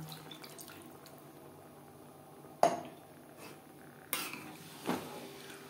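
Water is poured into a pan of egg curry, with a couple of sharp splashing bursts over a quiet kitchen background.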